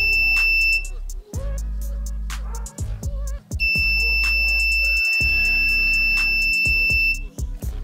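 An electronic buzzer in a two-button latch switch circuit sounds in long, loud tonal bursts with brief gaps, the harsh alarm-like tone cutting on and off.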